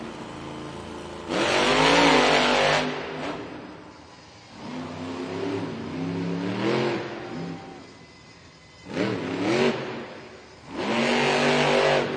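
El Toro Loco monster truck at a Monster Jam event in Raleigh, its engine roaring in loud revving bursts that swell and fade, with a quieter gap in the middle and a final full-throttle surge.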